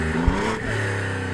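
A BMW car engine revs hard with a steady, close, throaty drone and a brief clattering knock partway through, loud and on its own without talk.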